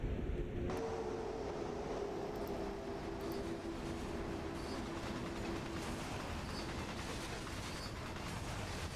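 A long freight train in the video game Train Sim World rumbles steadily past, a continuous low mechanical roar with a faint tonal whine running through it, close and loud throughout.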